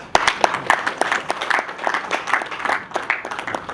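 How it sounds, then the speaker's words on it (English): Scattered hand claps from an audience at a biotech talk, a brief round of applause with uneven, overlapping claps of moderate loudness and no speech over them. "Doesn't that deserve a hand clap?"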